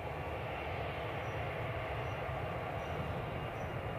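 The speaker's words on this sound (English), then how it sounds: "Plane droning in the background" An airplane drones near Edinburgh airport, a faint, steady, broadband roar of engines held constantly at a distance without any talk.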